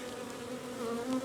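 Agitated honey bees swarm around an opened hive during an early-spring inspection, a dense continuous buzz with wavering pitch, close and steady throughout.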